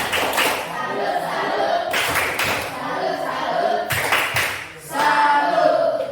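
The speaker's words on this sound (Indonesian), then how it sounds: "Tepuk salut untuk temanmu" Classroom pupils do a rhythmic 'tepuk salut' clapping routine during a maths lesson, with short bursts of patterned claps and a teacher's voice talking over and between them.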